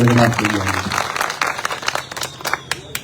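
A political rally crowd claps for Vithalbhai, scattered sharp claps following a man's brief speech at the start and continuing loosely on their own.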